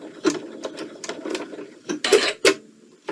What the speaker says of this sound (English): put it in reverse, and stitch it backwards to the center